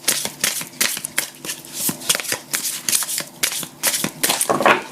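A new oracle card deck being shuffled, its fresh, slick cards sliding and flicking in quick repeated bursts of crisp riffling, close and clear with no talking.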